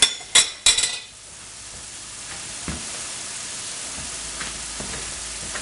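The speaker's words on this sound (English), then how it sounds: "I'm going to stir it up" Butternut squash with brown sugar and honey is stirred in a pan: a few sharp utensil clinks at the start, then a steady soft sizzle that carries on alone with a faint knock or two.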